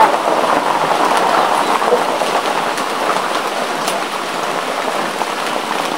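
Rain falls steadily at the onset of the rainy season, a constant, close hiss of drops pattering on surfaces with no talk.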